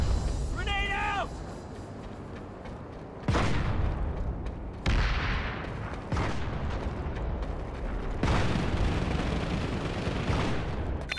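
Loud explosive bursts and gunfire from grenades and weapons in PlanetSide 2 combat, several sharp broadband blasts spaced across the clip over a constant battle din, with voices talking beneath.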